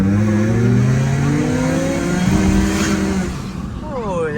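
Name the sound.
supercharged Perodua Myvi Passo engine revving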